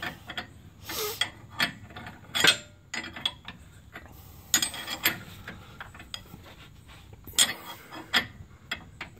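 A hand ratchet works loose the mounting bolts on a leaking steering rack of a Dodge Ram 1500, giving quick bursts of sharp metallic clicks and clatter, close up, with brief pauses between strokes.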